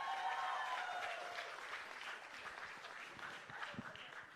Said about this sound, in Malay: Berikan tepukan gemuruh ke semuanya,